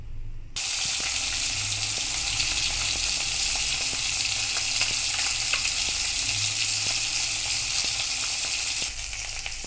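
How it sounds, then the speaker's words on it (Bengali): Bata fish frying in hot mustard oil in a kadai, a steady loud sizzle and crackle running continuously with faint occasional pops, no talking. "তেলটা গরম হয়ে গেছে, মাছগুলোকে ভেজে নেব।"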